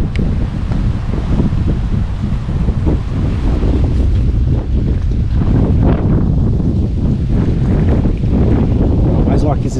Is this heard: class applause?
no